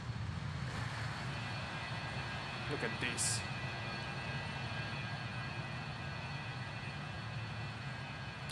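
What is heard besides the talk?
Avro RJ70 airliner engines climbing, flight simulator video game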